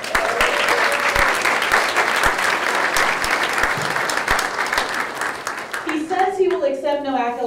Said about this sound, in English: can we give Kenny a round of applause?